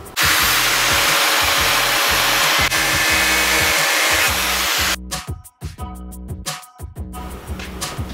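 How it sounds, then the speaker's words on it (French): Angle grinder with a thin cutting disc slicing a snorkel for a Toyota KDJ120, a loud continuous high-pitched whine that cuts off midway into choppy, intermittent bursts. "moi j'ai utilisé une disqueuse avec un disque assez fin"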